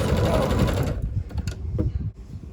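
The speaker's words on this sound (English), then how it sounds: "and then sewing those two pieces together." A sewing machine joins quilt blocks for a quilt-as-you-go wall hanging, running in a loud steady whir for about a second before stopping, followed by faint handling clicks and rustles nearby.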